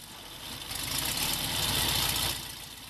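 A VW Karmann Ghia engine fitted with a belt-driven compressor runs steadily, its rumbling drone swelling slightly in the middle and easing back near the end, with no talk over it.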